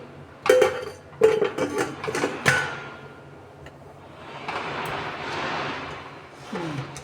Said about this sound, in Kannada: ಇವಾಗ ನಾನು ಅದಕ್ಕೆ ಕುಕ್ಕರ್ಗೆ ಲಿಡ್ ಹಾಕ್ತಾ ಇದ್ದೀನಿ